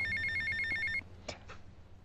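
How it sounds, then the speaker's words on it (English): A telephone rings in GTA Vice City: a steady electronic trill repeats for about a second, then cuts off and leaves quieter game ambience with a couple of soft thuds. "This is the phone call we're waiting for right here."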